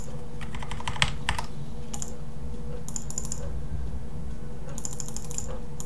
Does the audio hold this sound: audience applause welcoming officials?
no